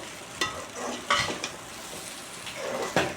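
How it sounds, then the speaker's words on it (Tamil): Chicken rice with masala being stirred in a pan, with a few scraping strokes and a soft sizzle that sits quietly in the background. No voices. "எல்லா ரைஸும் அந்த மசாலாவும் சிக்கன்லேயும் படுற அளவுக்கு நல்லா கிளறி விட்ட பிறகு"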